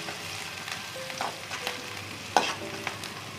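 Finely sliced onions fry in two spoons of oil and are stirred in a pan, a soft steady sizzle with a few light scraping clicks of the spoon, close and alone.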